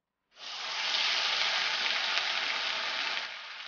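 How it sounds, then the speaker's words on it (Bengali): Batter hits hot mustard oil in a wok and breaks into a steady, broad hiss of frying that holds evenly for about three seconds at moderate loudness, with no talking. "কড়াইতে সর্ষের তেল দিলাম তেলটা গরম হয়ে গেছে এবার এটাতে আমি ব্যাটারটা দিয়ে দেবো"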